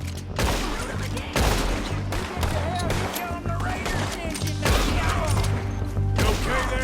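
Heavy gunfire in Red Dead Redemption 2 during a rocky shootout: repeated loud sharp shots in clusters across several seconds, mixed with mechanical clicks and impacts, with characters shouting between them.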